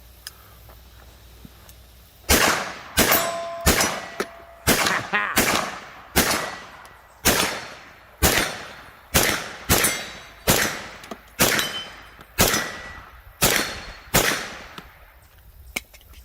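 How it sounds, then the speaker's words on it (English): A 9mm carbine fired through a 19-round magazine, about twenty sharp loud shots spaced roughly a second apart in a steady rhythm, ringing briefly after each, no talk. "So that was a 19 round mag you were just shooting?"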